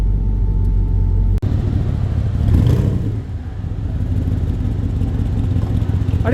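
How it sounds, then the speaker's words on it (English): A car does a burnout inside a hall at a large car auction, its engine roaring loud and close with a deep rumbling growl that surges and holds for several seconds. "I didn't know we were allowed to do burnouts in here."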